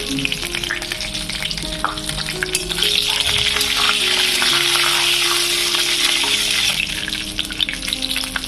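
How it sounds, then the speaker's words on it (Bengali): Whole spices — panch phoron, bay leaf, green cardamom and cinnamon — crackle and sizzle in hot white oil, a steady, close frying hiss with faint scraping of a stirring spoon throughout, no voices. "সাদা তেলের মধ্যে দেওয়া হলো পাঁচফোড়ন, তেজপাতা, ছোটো এলাচ, দারচিনি, এটুকু।"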